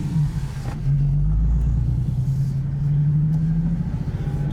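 A 2020 Nissan 370Z pulls away on the road, its engine rumbling low and rising steadily in pitch as it accelerates, heard from inside the car at moderate volume with no talking.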